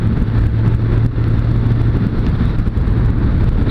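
A Suzuki Bandit 600 motorcycle engine runs smoothly in top gear while riding, a loud steady drone mixed with wind rush and road noise, no speech.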